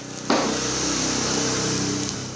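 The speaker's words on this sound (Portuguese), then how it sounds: "esse barulho estranho é por causa dos carros e moto que tá passando aqui" Cars and motorbikes pass along a nearby street: a broad rushing roar rises abruptly and holds steady for about two seconds, with a low engine hum beneath it and no talking.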